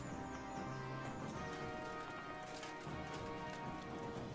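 In the video game Kingdom Come Deliverance 2, a horse's hooves clip-clop in a soft, steady rhythm beneath a busy, rain-like ambient bed, faint and mixed with game sounds.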